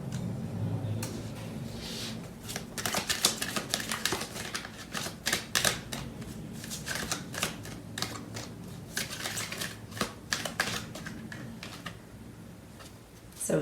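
Tarot cards are shuffled close by in quick bursts of crisp riffling clicks and flutters, quiet overall with short pauses between runs.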